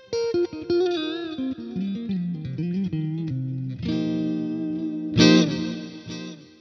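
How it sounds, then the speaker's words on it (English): Clean electric guitar notes played through an Xotic Stereo X-Blender with delay and chorused reverb ring out with echoing repeats and a shimmering, chorus-like wash, building to a brighter strummed chord near the end. "We've got delay, we've got a little bit of a chorused reverb happening."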